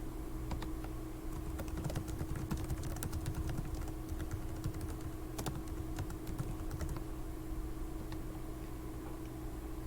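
Rapid clicking of a computer keyboard as a short note is typed, dense bursts of keystrokes for most of the stretch then trailing off, close and alone with no voices.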